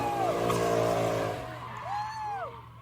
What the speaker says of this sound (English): So you can hear the engines already.